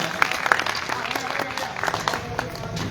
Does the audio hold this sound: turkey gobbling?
no